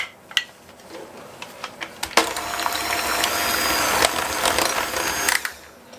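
Eggs are beaten into cream cheese batter for a Basque burnt cheesecake, giving a whirring, rattling mixer sound with clicks and knocks against the bowl, steady and close.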